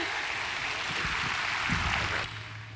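An audience claps steadily for a few seconds at a motivational talk, the applause broad and even before tapering off abruptly near the end.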